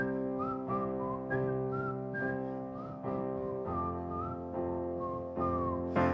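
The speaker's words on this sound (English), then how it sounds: "This is the song that white people love that's just whistling." A person whistles a bright, upbeat melody over a steady instrumental song backing, the short tuneful phrases repeating across several seconds and sitting clearly on top of the music.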